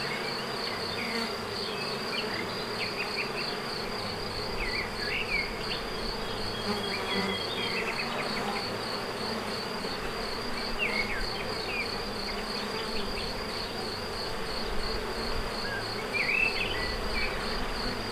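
Honeybees in a first-year apiary drone steadily around their hive, a dense continuous buzz of many insects, close and loud, with occasional individual bees passing nearer and no talking.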